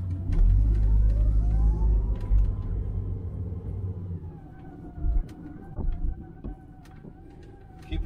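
Ford Cortina 6 with a 4.1-litre engine pulling away in drive in 40+ degree heat: a loud, steady low engine rumble that rises in pitch as the car moves off, with a faint whine and a few light clicks.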